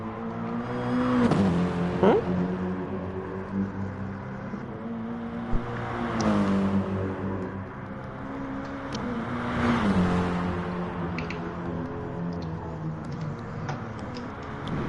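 GT3 race car engines in a racing video game whine and rise in pitch through gear changes, several revving passes sweeping up and down over a steady engine drone.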